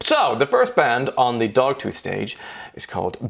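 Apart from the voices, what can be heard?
No everyday noises stand out.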